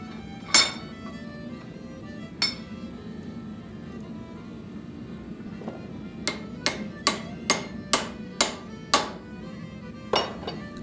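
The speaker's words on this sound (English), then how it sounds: "I use my vise and my hammer to close it up." Hammer blows on hot steel held in a vise while closing the folded body of an axe around a laminated steel bit for forge welding: scattered single ringing strikes at first, then a quick run of about eight sharp metallic hits, close and clear.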